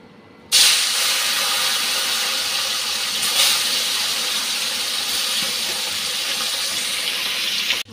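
Fish coated in salt and turmeric goes into hot oil with a sudden loud burst of sizzle, then a strong, steady hiss of frying that continues close up without talk until it stops.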